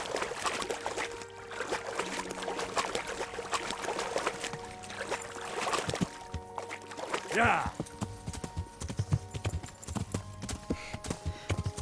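Mountain horse hooves clip-clop steadily on ground in Kingdom Come: Deliverance, a continuous rhythmic plodding with faint water trickling, while people talk over it.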